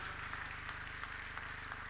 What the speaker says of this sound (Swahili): Pigeni makofi mengi